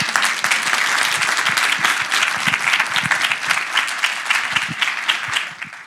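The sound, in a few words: audience applause at a lecture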